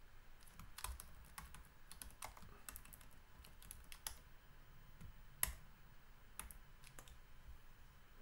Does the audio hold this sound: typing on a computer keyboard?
yes